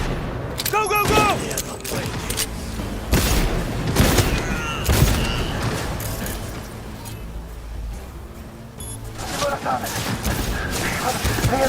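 Bursts of gunfire and booming shots crackle through a firefight in the video game Cyberpunk, mixed with shouting voices and irregular volleys that rise and fall over about twelve seconds.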